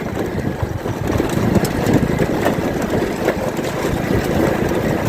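A tractor engine runs steadily on a rough dirt track of gravel and sand, a continuous low rumbling drone that stays fairly loud and even throughout, with no talk over it.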